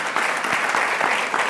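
A church congregation claps in a loud, close, steady burst of applause filling the room, many hands together with no voices standing out.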